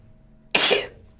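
One short, sharp sneeze bursts out close to the microphone in a quiet radio broadcast room, then silence returns.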